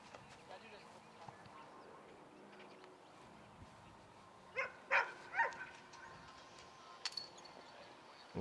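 A dog barks a few times in the distance at an outdoor disc golf tournament just after a putt, short faint yaps over quiet background noise and murmuring.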